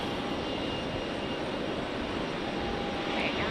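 An Aeromexico airliner taxis at Raleigh Durham airport, its jet engines giving a steady, fairly close rumbling hiss with a thin sustained whine, continuous and unbroken, with no talking.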